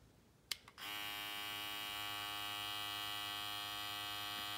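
A new Babyliss Gold hair clipper switches on after a brief click and runs with a steady, loud electric hum and buzz close up, with no talking.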